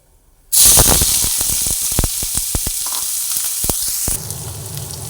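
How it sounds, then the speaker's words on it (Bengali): Chopped onions drop into hot oil with a burst of loud sizzling, followed by steady crackling and a few clicks of stirring, close by. "পেঁয়াজটা ভেজে নিচ্ছি"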